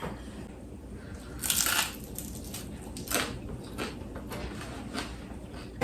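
Crunching bites into a crispy pan-fried corn tortilla quesadilla filled with feta and spinach, a few loud crisp bursts spaced over several seconds, then quieter chewing, recorded close with no talking.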